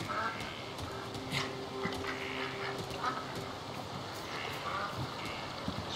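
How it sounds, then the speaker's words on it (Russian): Ducks in The Lord of the Rings: The Fellowship of the Ring video game give scattered short, faint quacks over a steady outdoor ambience, with no talking. "Утки, то есть."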